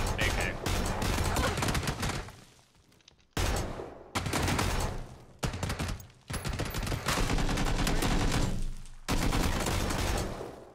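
Bursts of AK rifle fire in a first-person shooter game, loud rapid volleys separated by short pauses, with scattered voices mixed in.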